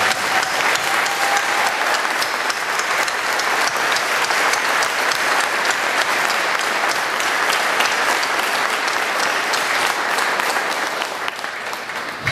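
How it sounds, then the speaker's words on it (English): An audience applauds at a ceremony honoring an honor guard, a dense, steady burst of clapping that holds at full strength before tapering slightly at the end. "let's give them a round of applause for"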